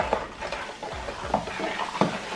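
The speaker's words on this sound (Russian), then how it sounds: "Теперь все тщательно перемешать, чтобы все растворилось" Spoon stirring a homemade cleaning solution of hot water and citric acid in a container, with repeated scraping clinks and swishing strokes at close range, no talk.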